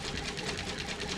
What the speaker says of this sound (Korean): 글자 그대로 핸들 미싱이니까 손으로 돌려서 박음질을 하게 됐습니다